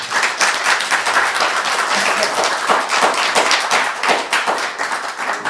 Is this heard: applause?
yes